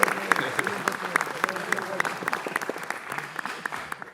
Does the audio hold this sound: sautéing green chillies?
no